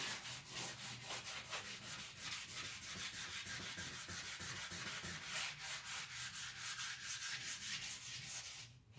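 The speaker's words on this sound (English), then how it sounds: "And then I'm just going to lightly sand over it." Sandpaper wetted and drawn lightly over painted furniture finished with lacquer, a soft steady rhythmic rubbing of quick back-and-forth strokes, quiet and close with no voices.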